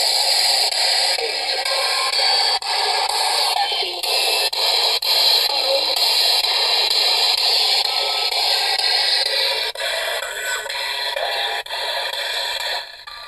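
A ghost box radio sweeps through stations, giving a loud, continuous wash of hissing static broken by choppy cuts and brief fragments as it scans.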